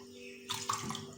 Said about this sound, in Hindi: ये मैंने 2 गिलास इसमें पानी डाल दिया